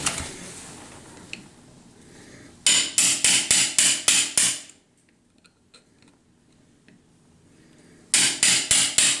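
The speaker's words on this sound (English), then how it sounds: "I'm going to use a hammer and chisel." Two bursts of rapid, sharp metallic hammer strikes on a chisel cutting out a toilet flange, about seven blows each, separated by a quiet pause with faint ticking.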